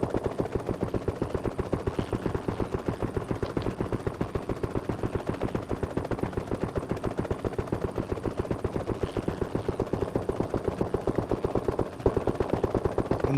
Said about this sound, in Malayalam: ഫയറിങ് ജെറ്റ് വരുന്നേ.